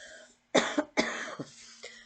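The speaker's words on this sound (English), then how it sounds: "Sorry, I've got to cough, of course." Two sharp, close coughs in quick succession, followed by a softer throat-clearing sound, with a faint steady hum underneath.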